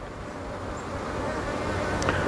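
Honey bees buzzing around an opened top bar or Langstroth hive on a late-summer inspection, a continuous low drone close by with a brief higher whine near the end.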